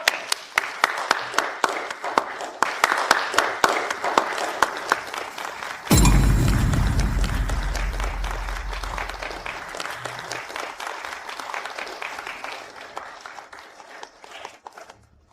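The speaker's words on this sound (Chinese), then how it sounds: "大家掌声有请" A crowd of guests gives a round of applause at a business contract signing ceremony, preceded by brisk scattered clapping, then a sudden loud thump and a fuller burst of applause that slowly fades out.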